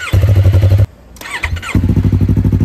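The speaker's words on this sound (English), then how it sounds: "Warning, loud exhaust noises in this next clip." A 2020 Yamaha MT-03 motorcycle fitted with an Akrapovic exhaust revs loudly and close, with throbbing, pulsing blips broken by a short gap and a rising rev before the rumble returns.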